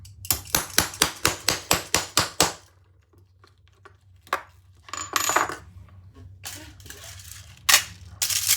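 Long rivets being set into thick bag material with a hammer: a rapid run of about ten sharp, close metallic strikes, then quieter scattered taps and handling clatter.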